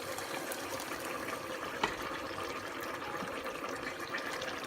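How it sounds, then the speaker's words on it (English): Chopped tomato pours into a cooking pot for Ghana-style jollof rice, a soft, steady wet gush and trickle throughout at moderate closeness, with one brief knock partway through. "I'm gonna add the tomato in now"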